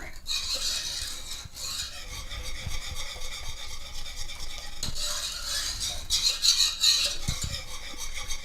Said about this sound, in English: Just make sure you mix the milk in thoroughly.